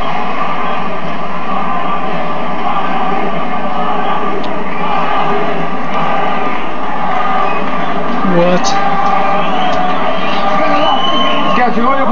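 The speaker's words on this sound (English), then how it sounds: "The Martinez fans cheer, and the Macklin fans make noise too" Boxing crowd at a Martinez versus Macklin fight, with fans of both sides cheering and shouting in a sustained, dense roar between rounds, and a commentator talking over the noise.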